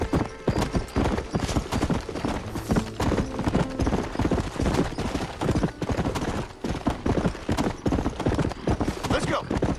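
Horse hooves clip-clop steadily in the Red Dead Redemption video game, a loud continuous trotting rhythm with occasional busy game noise layered over it.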